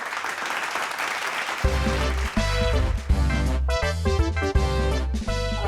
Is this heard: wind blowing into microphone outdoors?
no